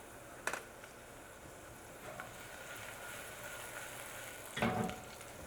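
Shallots sizzle in a hot pan while risotto is being made, a soft, steady frying hiss with a few brief louder clatters from stirring.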